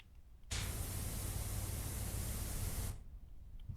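Pressure washer spraying in PowerWash Simulator: a steady, loud hiss of water jet that starts abruptly, holds for about two and a half seconds, then cuts off.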